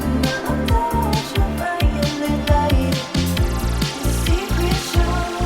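Dry bass guitar with no amp simulator, a driving run of repeated low notes over drums and a band mix, loud and steady throughout.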